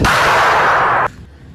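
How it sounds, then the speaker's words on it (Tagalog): Firecrackers going off in the days before New Year, heard as a loud sustained crackling burst that stops abruptly and leaves a quieter background. "Siguro naririnig nyo naman yung paputok"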